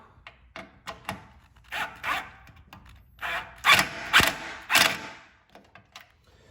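Radiator bolt on a Fiat 500 Abarth being tightened with a 4mm Allen socket, a series of short ratcheting clicks and creaky turns in uneven bursts, close but fairly quiet.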